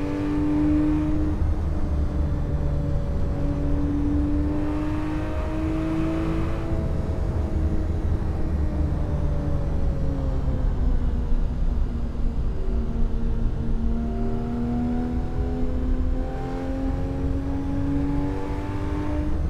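Car engine in Assetto Corsa free-roam driving, revving up and easing off in repeated rising and falling sweeps over about twenty seconds, loud and close with a steady underlying rumble, no voices.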